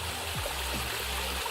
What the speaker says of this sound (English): water running over rocks at a pretty